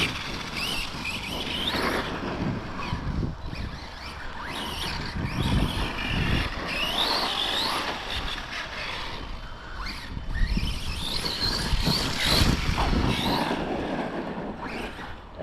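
An Arrma Outcast 4S V2 electric RC truck with upgrades drives over rough, muddy ground, its motor whining and tires churning in a steady run of rising and falling revs close by for fifteen seconds.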